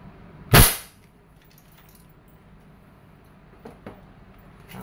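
A Crosman 2100 Classic variable pump air rifle fires a steel BB in a single loud, sharp crack near the start, followed by a quiet background with a couple of faint knocks.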